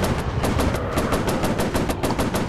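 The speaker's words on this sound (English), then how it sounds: "I have to use machine guns." Rapid machine gun fire from an F7F Tigercat fighter in the VR flight game War Planes WW II, a loud, steady stream of evenly spaced shots that continues without pause.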